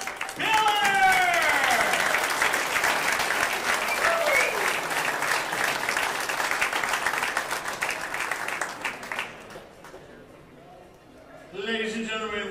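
Crowd applause at the 2023 Apex Wisconsin 10-Ball Open pool final, loud sustained clapping and cheers that gradually fade, with a voice speaking over it at the start and someone talking near the end.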